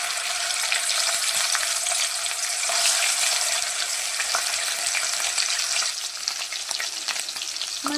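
Onion that was fried the day before goes into plenty of hot oil for a rustic mutton curry, giving a steady, loud, continuous sizzle and crackle with a few stirring clicks and no talk.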